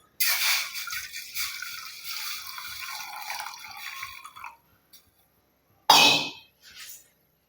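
Water pours steadily into a steel pot for a few seconds, then stops; after a pause, two brief splashy bursts follow.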